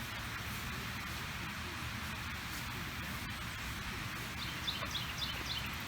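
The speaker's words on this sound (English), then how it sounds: "You can hear the water flowing and the birds." Steady broadband rush of river water flowing at a dam on the Appomattox River, continuous and moderately loud, with a few faint high bird chirps near the end.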